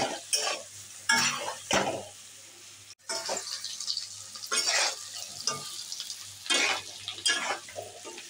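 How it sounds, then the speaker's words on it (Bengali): Potatoes frying in a pan with salt and turmeric while being stirred, bursts of sizzling and scraping in irregular strokes with short pauses, close and moderately loud. "আলুটা হালকা করে ভেজে নিয়েছি"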